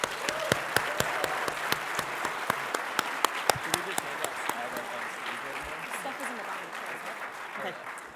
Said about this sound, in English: can I get a big round of applause for all their panelists?